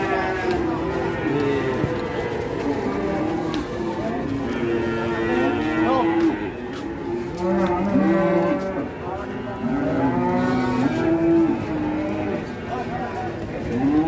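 Large cattle bellowing repeatedly with loud, drawn-out moos as they come down off a truck, mixed with constant crowd chatter, engine rumble and shuffling in the background.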